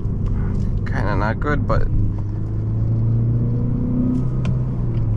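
A car engine rumbles steadily while the driver shifts into second gear with a quick throttle blip, in a car driven in winter conditions. Someone talks over the engine throughout.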